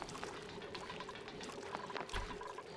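Water pours into a tank in the video game Oxygen Not Included, a soft, steady trickling and gurgling stream that continues throughout over a faint sustained tone.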